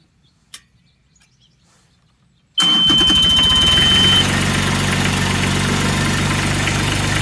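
Diesel engine of a Ditch Witch SK800 compact loader starting up close by after a quiet pause, cranking abruptly into a loud, rough, steady idle with a faint whine; nobody speaks.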